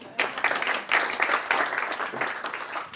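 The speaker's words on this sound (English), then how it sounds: "Give me a clap for that one." An audience clapping in a room during a talk, a burst of dense applause that swells and eases in waves over a few seconds, fairly close and lively.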